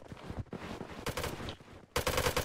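Gunfire in the survival video game Rust: rapid bursts of shots crackle in clusters with short pauses between them, fairly faint and without talk over them.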